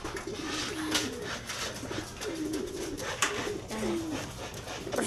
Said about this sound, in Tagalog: Ayun, isang ibon natin.